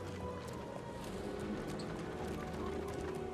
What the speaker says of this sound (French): Sur notre cheval.